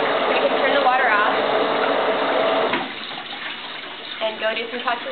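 A laboratory water jet gushes with loud, steady rushing and splashing, then drops to a quieter trickle as the flow is shut off, with a voice speaking over it.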